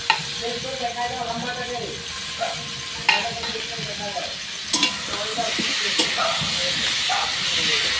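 Chopped medium-sized tomatoes sizzle in a hot pan alongside spices, with a steady hiss, scattered clinks and scrapes of stirring, and faint voices murmuring in the background.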